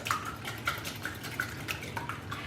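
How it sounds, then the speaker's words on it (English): Eggs and yolk being whisked for flan, a utensil lightly clinking and tapping against a bowl in a quick, uneven rhythm, close and fairly quiet. "I'm just going to whisk the eggs a little bit with the yolk"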